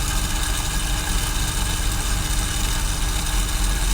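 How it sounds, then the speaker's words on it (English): A 1973 BMW 3.0CS with automatic transmission idles just after a cold start, running slightly low, a steady close rumbling drone with even pulsing and no voices. "It fired right off. It's idling a little low, but it needs to warm up, as all these cars do."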